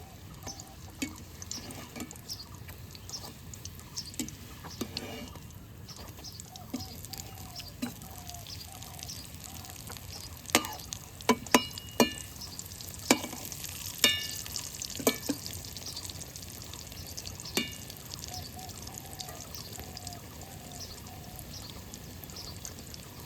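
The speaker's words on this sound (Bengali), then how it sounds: "বাকি রোলগুলো এখন ভেজে নেব" Egg and potato rolls fry in oil, a faint steady sizzle with scattered clicks, taps and clinks of turning them in the pan, close and quiet with no talk.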